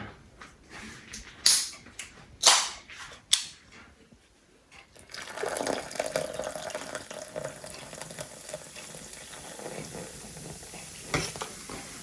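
Fish batter frying in hot oil in a home kitchen, first a few sharp splashes and clatters, then a steady, moderately loud bubbling sizzle that carries on without talk.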